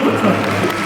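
A crowd applauding at the Black Desert FESTA 2023 Calpheon banquet, a brief, dense and even wash of clapping from many hands, with voices mixed in.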